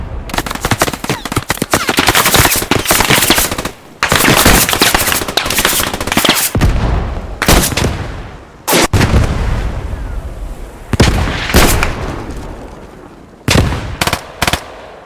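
Heavy gunfire in the Squad 44 video game, with dense bursts of machine-gun and rifle fire and booming artillery-like blasts. The firing comes loud and near in long sustained volleys, broken by brief pauses.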